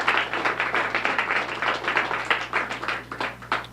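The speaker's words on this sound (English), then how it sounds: "I think she deserves a round of applause too." A modest round of applause at a trivia awards ceremony for a longtime scorekeeper, a small room of people clapping in uneven bursts, moderately loud over a steady low hum.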